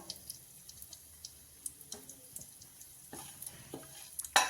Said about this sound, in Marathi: थोडंसं आपण तेलामध्ये याला चांगलं परतून घेऊया.